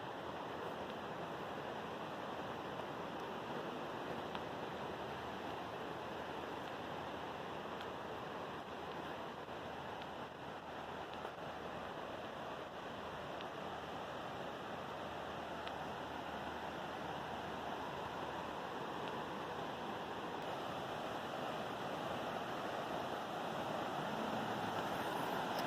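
A creek runs beside a Great Smoky Mountains nature trail, a steady, continuous rushing wash of water heard at moderate distance, unbroken and without voices.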